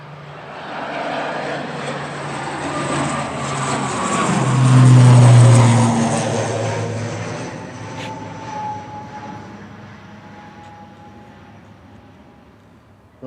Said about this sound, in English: Aer Lingus Regional 3321 to Dublin, departing now, EIGPN.